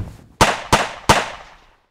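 Three sharp gunshot-like cracks in quick succession, each with a short decaying tail, loud and close with no voices.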